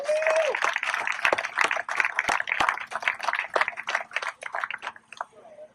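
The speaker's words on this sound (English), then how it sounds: "give yourselves a round of applause" Audience applause at a foundation family day, scattered hand claps swelling into a steady patter of many hands at moderate distance, thinning toward the end.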